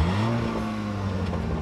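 A car engine revs loudly and close, holding a steady droning pitch that rises slightly then settles, with no voices over it.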